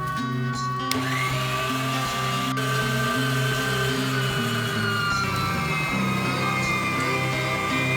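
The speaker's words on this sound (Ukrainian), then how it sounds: "Дістаємо м'ясорубку, беремо м'ясо і перекручуємо." An electric meat grinder mincing meat runs with a steady, loud motor whine and a churning hum that holds throughout, with a few small clicks near the start.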